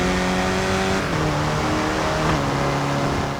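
A Willys Jeep engine revs in a racing video game, loud and close, with the pitch shifting as the gears change and the engine note rising and falling continuously under a steady roar.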